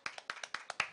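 Faint hand clapping at a chef festival in Villa Pehuenia gives about eight quick, evenly spaced claps in one second, with no talk over it.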